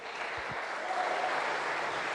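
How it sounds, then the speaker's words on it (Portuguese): Congregation clapping during a Sunday church service, a soft, continuous spatter of hands filling the room at moderate distance, steady throughout without speech. "Dá uma salva de palmas ao Senhor"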